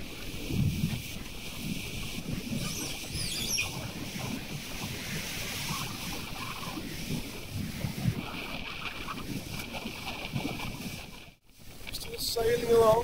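Strong wind blasting across a Pegasus 50 sailing yacht at sea, a steady loud roar and buffeting with water rush, continuous through the whole stretch.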